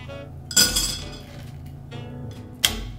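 Ice cubes for an Old Fashioned rye cocktail clink into a glass in two sharp, close bursts, the first a rattling cluster, the second a single crisp knock, over quiet background.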